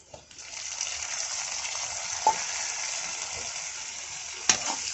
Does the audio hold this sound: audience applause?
no